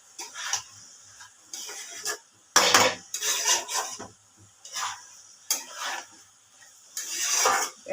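Ginger paste being stirred and mixed in a pan, with repeated scraping and clinking of a utensil against metal in uneven bursts, close and fairly loud, with faint sizzling between strokes.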